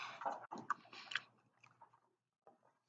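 Someone chews a sweet cookie close up: a few crunchy bites in quick succession, then softer mashing that trails off into near silence before one last small chew.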